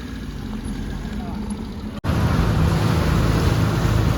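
Boat ride crossing from Dabhol to Dhopave on the Konkan coast, with steady loud engine and water rumble mixed with wind buffeting the microphone, a brief dropout midway, then continuing louder.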